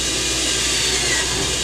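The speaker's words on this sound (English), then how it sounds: "drill some holes in our standpipe," A power drill bores holes into a standpipe, a loud, steady whirring drone that holds constant throughout the short burst, close and unbroken.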